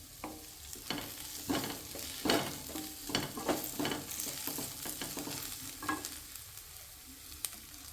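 Curry leaves and tamarind sauté in a hot pan for vallarai keerai chutney, a steady soft sizzle broken by repeated scraping stirs of a spoon, close and fairly quiet.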